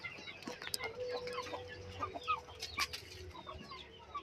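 Chickens cluck and chatter while being fed, a quiet, busy scatter of short calls and squawks with an occasional rooster-like note, close by.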